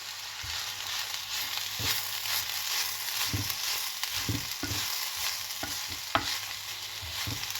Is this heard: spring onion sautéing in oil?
yes